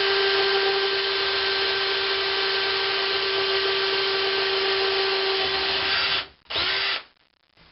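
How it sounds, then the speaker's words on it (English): A power drill running a counterbore through sheet metal during a Princeton 112 Plus amplifier repair gives a loud, steady whine with a constant tone for about six seconds, then cuts out, briefly restarts and winds down. "Using a counterbore to drill larger holes in sheet metal is something I learned years ago."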